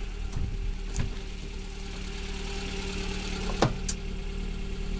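Car engine idling steadily after a home repair, a continuous low hum with faint ticks and a brief louder thump partway through, no voices.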